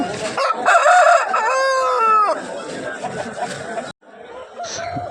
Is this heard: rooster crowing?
yes